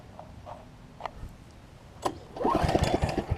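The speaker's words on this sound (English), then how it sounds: "let's see if it cranks back up" Snapper rear-engine riding mower with the choke on, its small engine cranking: a few faint isolated clicks, then a louder burst of rapid chugging turnover near the end.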